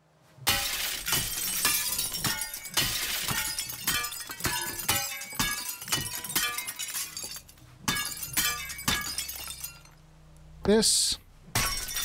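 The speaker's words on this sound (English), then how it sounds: "I will break the glass just in case" Glass shattering repeatedly in Teardown, a string of sharp crashes and tinkling shards, loud and close, with someone speaking briefly between the breaks.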